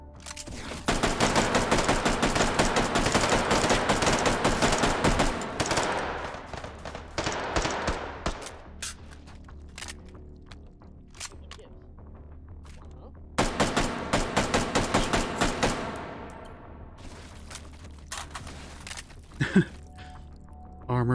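Rapid bursts of gunfire from armor-piercing rounds in the VR shooter Hot Dogs, Horseshoes & Hand Grenades, with a long loud volley, scattered shots, then another dense burst, all close and sharp.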